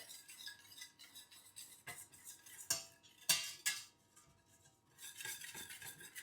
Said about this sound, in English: Continuously work it with a whisk.